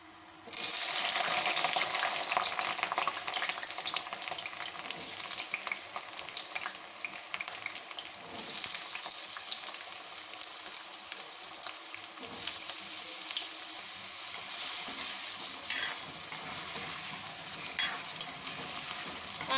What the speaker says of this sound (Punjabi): ਤੇਲ ਚੰਗੀ ਤਰ੍ਹਾਂ ਗਰਮ ਹੋ ਗਿਆ ਏ ਇਹਦੇ ਵਿੱਚ ਅਸੀਂ ਆਲੂ ਪਾ ਲਾਂਗੇ